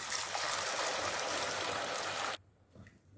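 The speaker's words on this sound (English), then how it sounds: "Now I add in water." Water pours steadily into a cooking pot for plantain porridge, a loud continuous splashing stream that stops abruptly near the end, leaving only faint kitchen noise.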